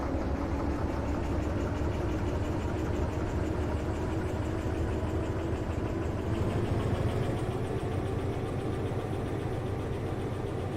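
Diesel locomotive in Derail Valley throttling up from idle, a steady low engine rumble and drone that holds continuously and close, with no talk over it.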